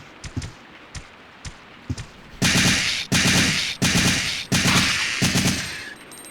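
Gunshots in Resident Evil 3: Nemesis on the PlayStation: a handful of sharp single shots, then several sustained, loud automatic bursts with short gaps between them.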